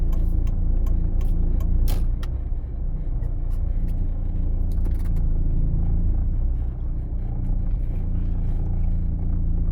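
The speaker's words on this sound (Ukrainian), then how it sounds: "Тут у нас вже трафік такий стає більш щільний." Dense road traffic heard from inside a car, a loud continuous low rumble of engines and tyres with scattered sharp clicks and hisses of passing vehicles.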